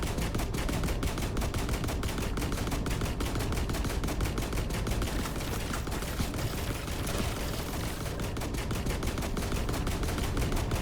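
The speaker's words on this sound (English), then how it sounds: "I'm going to charge up my rifle" A rifle in The Last Caretaker video game fires in a rapid, continuous stream of sharp shots, loud and unbroken throughout with no talking.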